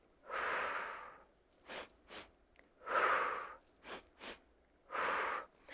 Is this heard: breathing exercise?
yes